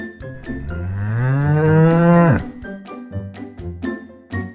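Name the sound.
cow mooing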